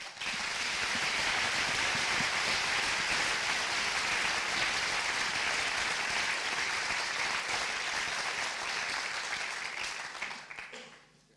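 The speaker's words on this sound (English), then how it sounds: "Give him a warm applause." A lecture audience at a debate on the existence of God gives a warm, sustained round of applause, dense and even clapping from a large crowd that holds steady for about ten seconds before tapering off.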